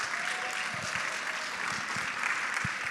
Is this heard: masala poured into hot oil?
no